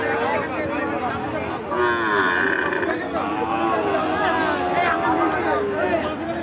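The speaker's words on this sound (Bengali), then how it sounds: "খামার উপযোগী কিছু মানসম্মত ষাঁড় বাছুর দেখতে পাচ্ছি" Bull calves and other cattle at a livestock market in Chaugachha, Jessore, low moos rising and falling amid a bustling crowd, with people chattering close by throughout.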